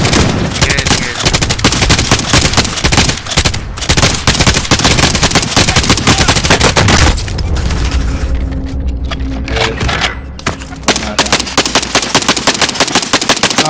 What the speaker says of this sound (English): I got the light machine gun. I'll suppress them while you go kill our teammate.